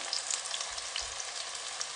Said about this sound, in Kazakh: Осыны жақсылап тұрып, қазір майға қуырып аламыз